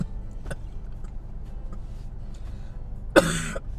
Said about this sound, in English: I coughed so hard